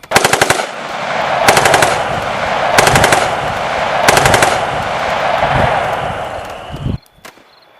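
Twelve village defense guns open up with machine gun fire in a Thai audio drama, loud rapid bursts repeating roughly every second and a half over a continuous roar of gunfire, ending abruptly.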